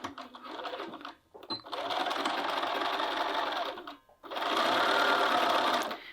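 Sewing machine stitching through a short cuffed sleeve and its seam allowance: two long, steady runs of fast rhythmic whirring close by, separated by brief pauses.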